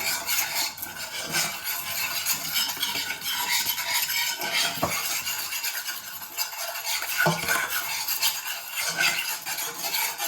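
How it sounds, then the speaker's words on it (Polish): A spoon stirs a dry mix of a pinch of salt and a spoonful of flour in a bowl for bread dough, a steady close scraping and rubbing that runs throughout with no voice. "Wsypujemy trochę soli, szczyptę dosłownie i łyżkę mąki do tego. I mieszamy to."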